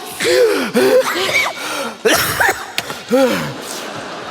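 A man gasps several times in a row, deep and loud with breaks between them, like someone struggling to draw breath.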